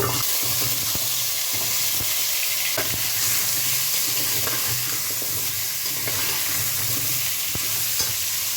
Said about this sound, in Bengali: আমি এবার আলুগুলো দিয়ে দেব